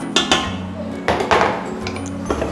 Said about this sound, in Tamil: நெய் ஊற்றி இந்த மாதிரி நல்லா கிளறிக்கலாம்